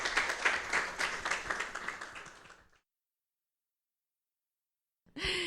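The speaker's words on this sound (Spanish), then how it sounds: "vamos a recibir con un aplauso de cariño aquí a Ileana de Orozco" An audience at a church women's gathering claps to welcome a speaker, a dense burst of applause that fades and cuts to silence after about three seconds, followed by a brief loud sound at the end.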